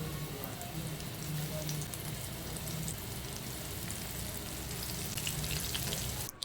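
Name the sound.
chicken pieces frying in hot oil in a wok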